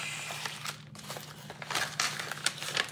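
Padded envelopes being torn open and handled, with papery crinkling and rustling bursts that come close and fairly soft, over a steady low electrical hum.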